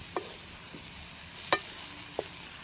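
Vegetable noodles are stirred in a pan with the handle of a ladle, giving a few sparse, soft scraping clicks over a quiet low sizzle.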